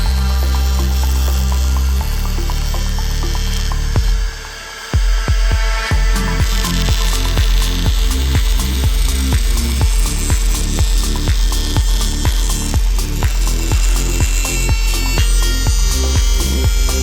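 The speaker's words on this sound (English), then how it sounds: "I free-handed the round over on my hand router." A handheld router freehand-cutting a roundover on a wood edge, steady high whine that drops briefly, then a run of rhythmic chattering passes as the bit bites the workpiece, close and loud.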